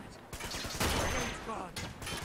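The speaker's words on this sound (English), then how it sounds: "Stop shooting me." Enemy gunfire aimed at the player in Uncharted 2: a short, dense fusillade of close, loud shots over busy game noise, with a heavier burst in the middle.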